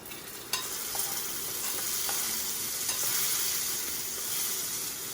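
Mixed vegetables for kootu fried and stirred in a pan, a steady close sizzle with occasional light scrapes and clinks of the spoon, continuous and fairly loud with no talking.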